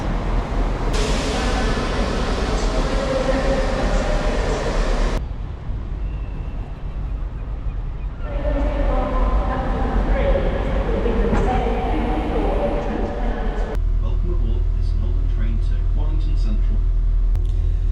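Loud rumble of a train to Widnes with shifting rail noise and changing segments, sounding close, as if heard from onboard or beside the track; no clear talk.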